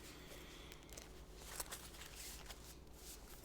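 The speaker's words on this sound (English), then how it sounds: "okay. Done shuffling." A Commander deck of trading cards is shuffled by hand, with soft, rapid riffles and card flicks that continue steadily at close range and low volume.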